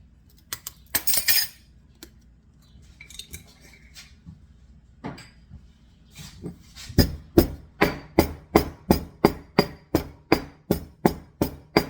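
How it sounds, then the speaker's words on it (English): Dried thyme crushed with a mortar and pestle: a few scattered knocks and scrapes, then a steady run of about fifteen sharp, evenly spaced pounding strikes, close and loud. "they want you to crush it. This is mortar and pestle time again."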